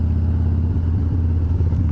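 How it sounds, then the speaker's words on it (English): Steady low rumble of road traffic in town, cars and motorcycles passing at a distance, a continuous mid-level drone with no voices. "there's just a lot more traffic down here than I really would have thought there would have been"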